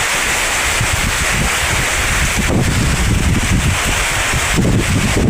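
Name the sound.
strong storm wind blowing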